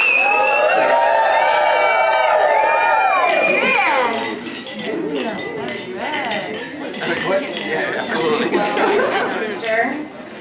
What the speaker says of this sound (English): So I'd like to ask everyone to raise a glass to Luke and Erin.